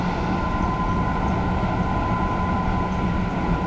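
A TGV 200 high-speed train in Carmillon livery runs through France in a train simulator game, giving a steady, loud rolling rumble with a constant tonal whine and no break in the sound, with no voices.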